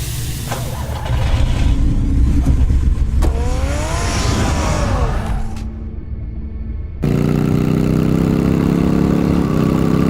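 Car engine in the Batman Telltale game, a loud steady idle rumble with a rising whine mid-way, a brief drop, then the engine settling into a stronger sustained hum.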